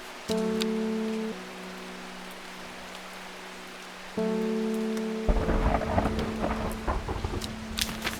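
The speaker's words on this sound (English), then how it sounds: "I love storms. It sounds nice." Rain with rolling thunder from the Strange Horticulture game, a steady downpour under sustained game-music tones, with the rain growing heavier and more crackling near the end.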